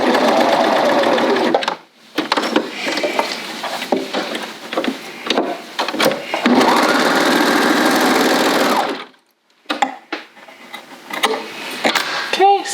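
A serger sewing machine finishes a seam on a sweater, whirring in fast bursts of rapid stitching with short pauses between runs and a clear stop near the end, close and loud.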